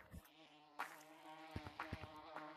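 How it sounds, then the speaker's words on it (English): Bees buzzing in a video game, a faint, fluttering insect drone with soft intermittent thumps beneath it, quiet and continuous, with no talking. "Those are actual bees."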